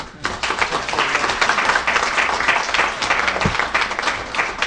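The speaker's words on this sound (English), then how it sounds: "I think we owe him a round of applause." A room of listeners gives a panel speaker a steady round of applause, dense overlapping claps holding at an even level for several seconds without talk.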